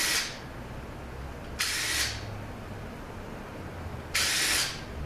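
A power tool, likely an impact gun, runs on the bolts of a ZF 6HP28X transmission pump in two short, bright, hissing bursts about two and a half seconds apart, close and fairly loud against a quiet shop background.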